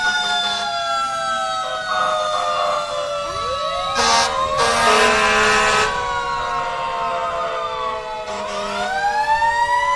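A Montpelier Fire Department engine, number 72, sounds its siren in a Fourth of July parade, loud and close, with sustained wails and repeated rising sweeps and short bursts of horn, no talk.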